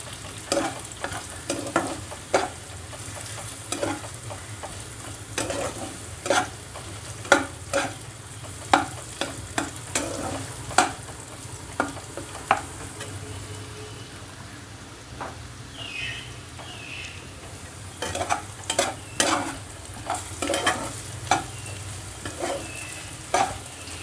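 Potatoes frying in a pan while being stirred, a steady sizzle broken by frequent sharp scraping and clinking strokes of the spatula throughout.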